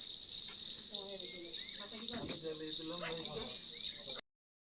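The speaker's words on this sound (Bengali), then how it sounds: "ঝিঝি পোকার ডাক।" Crickets chirping at night in Darjeeling, a continuous high-pitched trill holding steady throughout, with people talking faintly in the background before it cuts off abruptly.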